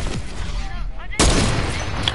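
Sniper rifle fire in a video game: a sudden loud broadband blast near the middle, followed by a sustained dense noisy tail, over ongoing game background noise.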